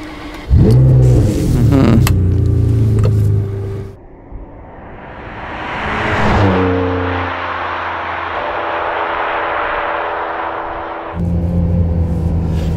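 A 2008 Ferrari 599 GTB Fiorano with a six-speed manual gearbox revs loudly nearby, then its engine note swells and fades as it drives past, leaving a steady lower drone that rises again at the end.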